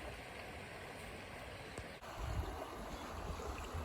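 A creek flows steadily nearby as a broad, constant wash of rushing water, moderately quiet and unbroken, with a faint low thump partway through.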